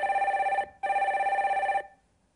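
A telephone rings while a call is being connected during a Korean stock-advice call-in broadcast, sounding as two loud electronic ring bursts with a short gap between them, then a fading tail and quiet.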